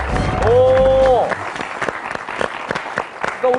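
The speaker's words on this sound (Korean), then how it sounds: "박수 한번 부탁드릴게요" A studio audience breaks into a short round of applause after a contestant's scores are revealed, the clapping rising after a brief exclamation and continuing under a spoken voice.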